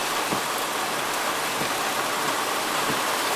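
A heavy rain downpour makes a constant, close roar of hiss across the whole stretch, with no talking.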